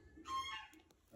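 A native bantam chicken gives a single short, faint cluck, nearby and alone.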